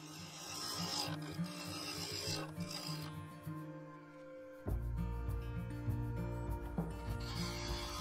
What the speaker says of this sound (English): taking the bowl gouge, I carefully cut away thin layers, stopping frequently to check my progress